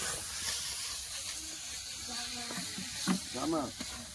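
Water splashed into hot spiced oil in a Bengali cauliflower-and-potato curry pan, giving a steady broad hiss with crackling bursts and sharper sputters near the end, close and moderately loud.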